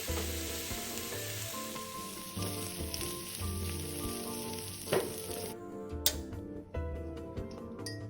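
Chicken filling seasoned with pepper, salt and light soy sauce sizzles steadily as it is stir-fried in a hot wok, with a spatula scraping and clinking against the pan near the end.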